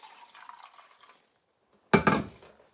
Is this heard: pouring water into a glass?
yes